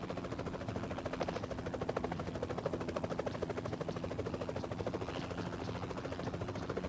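Helicopter in the PUBG Mobile video game, with a steady, loud rotor chop and engine drone that continues throughout, pulsing evenly and close, with no talk over it.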